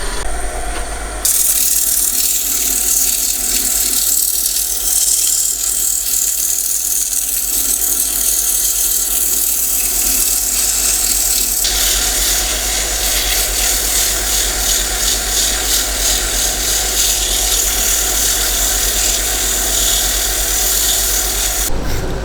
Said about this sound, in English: Now I'm going to do some sanding to it.